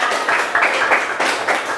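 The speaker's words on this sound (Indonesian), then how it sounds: "Tepuk tangan." Audience clapping after a presentation, a dense steady patter of many hands with brief swells, heard close with no voices.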